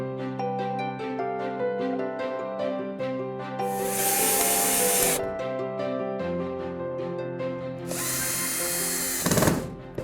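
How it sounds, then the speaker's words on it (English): A power drill bores pilot holes through wooden bird box side and back pieces, with two sustained whirring bursts of drilling over a quiet bed of background music. "we're going to drill the pieces of the box together, starting by drilling the sides to the back"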